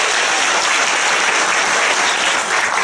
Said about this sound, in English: So a big round of applause for Singapore.